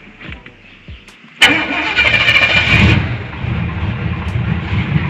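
A Chevy 454 big block with an Edelbrock 1411 carburetor in a square-body Chevy dually cranks briefly, catches sharply, and settles into a loud, rough, continuous idle up close.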